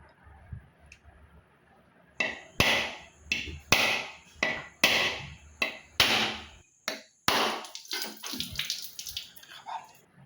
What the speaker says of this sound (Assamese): তেওঁ নাৰিকলটো কাটি দি আছে মোক।